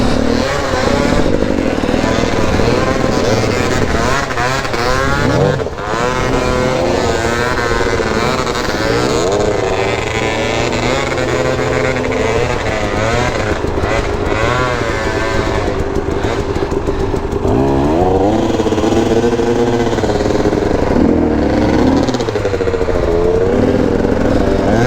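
KTM 250 dirt bike ridden along a muddy trail, its engine loud and close throughout, revving up and down with shifting pitch and constant throttle changes.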